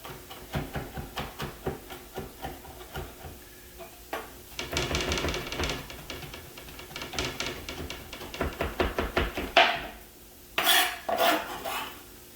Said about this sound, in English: we're going to get this sauteing now